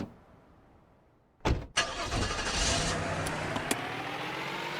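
A car engine in the video game Streamer Life Simulator cranks and fires after a quiet lead-in, then settles into a loud steady running drone as the car drives off, with a couple of sharp clicks over it.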